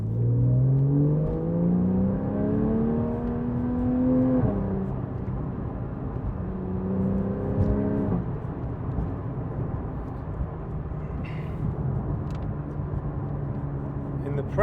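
A 2013 Porsche 911 Carrera S (991.1) accelerates hard in second gear, its engine note climbing steeply in two rising pulls with a shift between them, then settling to a steadier drone with road noise; close and loud.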